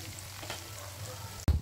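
Java rice fries in a pan with a soft, steady sizzle, then ends in a sudden low thump near the end.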